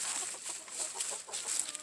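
Chickens cluck softly and steadily in a compost pile on a homestead, with light scratching and rustling throughout and no talk.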